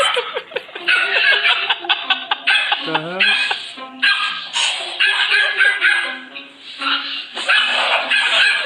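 Dogs bark excitedly after being startled by their owner, sharp repeated barks mixed with laughter and talking, close and loud.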